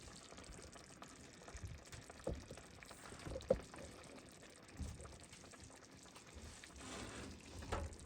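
Home-canned beef pasta sauce, simmered about ten minutes, is poured onto macaroni noodles in a faint, soft wet slosh with a few low splats and a brief clink, no talking.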